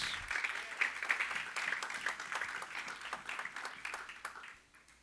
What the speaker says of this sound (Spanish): Dale palmas al Señor si crees.